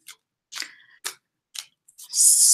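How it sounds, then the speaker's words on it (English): Tarot cards being shuffled, several short crisp riffling bursts separated by brief silences, ending in a longer brighter swish. "So I'm just shuffling the cards."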